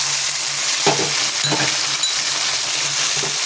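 Fish frying in a pan with tomato, cumin and chilli paste, a steady close sizzle broken by several stirring scrapes and soft clinks of a utensil.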